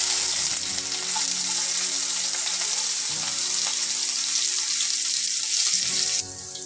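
Chopped onions frying in a pan with cardamom and cloves, a loud continuous sizzle with some stirring clatter and a few clinks, close up, easing off slightly near the end; no one speaks.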